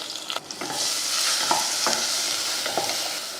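Hot oil crackles and sizzles continuously up close as rasam spices, onion and tomato fry, with a few spoon scrapes and stirring clatters cutting through at intervals.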